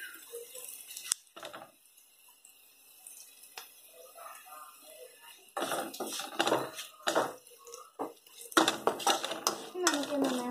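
Moru curry being stirred in a cooking pot: scattered scraping and metallic clinks of a spoon against the pot, faint at first and then busier and louder, with no talking.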